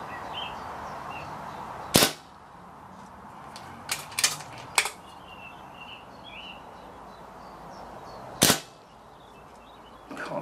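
Kral Puncher Pro 500 air rifle fired at targets, several sharp cracks: one at first, a quick cluster of three, then another later, over outdoor birdsong.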